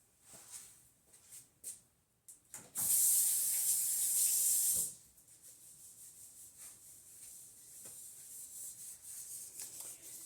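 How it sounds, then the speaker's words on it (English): Hands rub together lathering a canola and coconut oil soap, making a soft, close, wet squishing, with one louder hissing stretch of a few seconds in the middle and no talking. "I'm going to do a lather test since I have a lot of soap on my hands."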